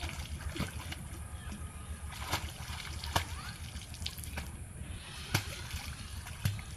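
Light, irregular splashing and sloshing of water as a child swims close by, with sharp splash bursts scattered through the clip.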